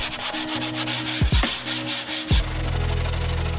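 Paint is sanded off the plastic hood scoop of a Subaru WRX STi with a power sander, a close, steady abrasive rasp that dips briefly twice, then resumes as a continuous louder whir.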